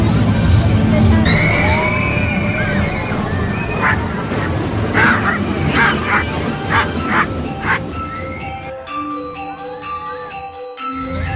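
A small dog yips and barks in short repeated bursts beside the Caterpillar roller coaster at a Christmas fair in Cyprus, over a busy background of crowd chatter and fairground noise.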